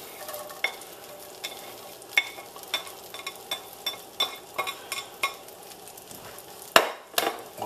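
Onion frying in butter in a pan, a steady close sizzle punctuated by regular scraping and clinking strokes of a utensil stirring, ending with a louder clatter, no talking.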